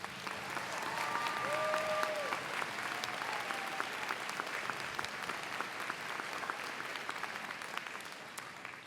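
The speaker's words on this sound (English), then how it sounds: "Please give them a rousing round of applause." Sustained applause from the crowd at a community college commencement, broad steady clapping at moderate distance with a few faint whistles near the start.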